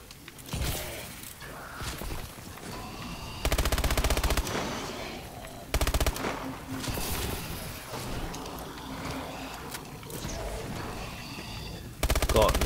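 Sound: gunfire in Exo Zombies video game

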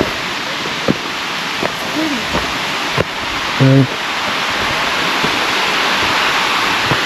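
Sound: waterfall

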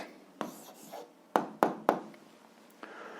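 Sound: pen writing the answer on paper

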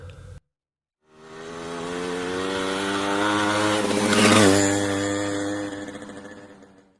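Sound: motorcycle engine

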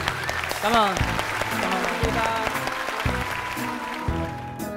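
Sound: audience applause for a contestant on a TV show

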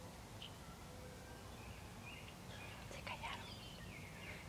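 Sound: birds chirping outside a house in the afternoon

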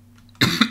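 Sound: cough

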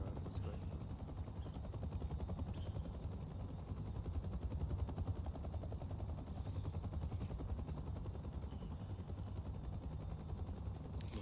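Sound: Huey helicopter in the DCS video game

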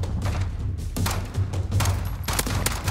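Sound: M19 pistol gunfire in Call of Duty Modern Warfare video game

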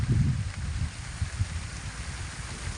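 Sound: rain falling

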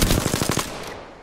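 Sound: gunfire in video game Apex Legends

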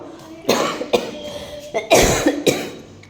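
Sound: cough

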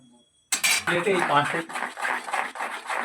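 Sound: mixing frying oil into gram flour (besan) batter in a bowl

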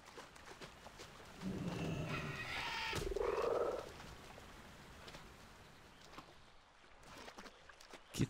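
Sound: frogs croaking in World of Warcraft video game

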